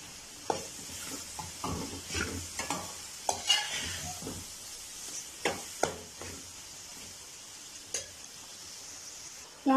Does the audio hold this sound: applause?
no